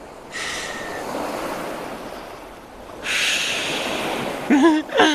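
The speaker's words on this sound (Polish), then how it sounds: "Jeśli przyłożysz muszelkę do ucha, usłyszysz morze." Hollow, steady ocean-like rushing from a seashell held to the ear, a soft broadband whoosh that swells partway through, ending with a brief voice-like sound.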